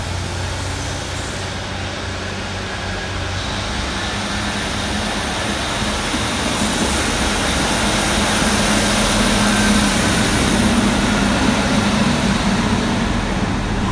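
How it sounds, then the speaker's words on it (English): A Northern Class 156 diesel multiple unit pulls out of Middlesbrough station, its engine giving a steady, loud rumbling drone that builds gradually as it departs, with no talk over it. "Next out to depart be 156496, working the 1626 Northern service from Saltburn through to Bishop Auckland."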